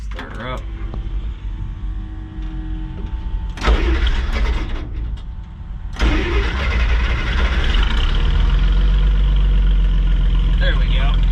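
A car engine on a towing and car-hauling rig cranks and catches, settling into a loud, steady idle up close, and a person talks while it runs.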